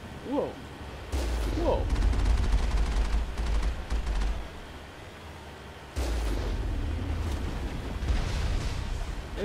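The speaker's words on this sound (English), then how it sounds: "Rocket launchers." Mass Effect combat on Virmire, with rocket launcher blasts and heavy booming explosions mixed with rapid gunfire, loud sustained barrages broken by brief lulls, and a faint voice now and then.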